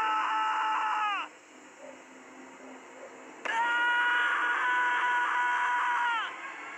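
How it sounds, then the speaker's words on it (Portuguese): A villager character in a video game screams in two long, loud, wavering cries separated by a short pause, with faint background game ambience between them. "O cara tá gritando."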